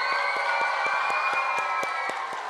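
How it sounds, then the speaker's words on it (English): An audience claps for cheerleaders, a drumline and a band at a school reading event, a steady, moderately loud wash of applause with a sustained tone running underneath and sharp taps punctuating it. "let's give a big round of applause to the Dallas Skyline cheerleaders and the drumline and the band"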